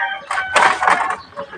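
A rooster gives a single short crow close by, a brief bright call of a few seconds with faint background noise.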